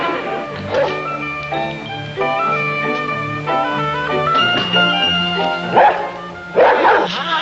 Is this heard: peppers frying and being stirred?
no